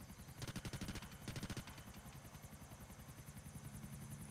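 A Bell AH-1Z Viper helicopter flies in GTA 4, its rotor chopping in a fast, regular pulse, faint and distant throughout.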